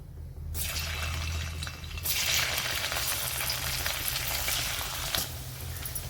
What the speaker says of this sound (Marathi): आता पनीरला आपण तेलामध्ये परतून घेऊ।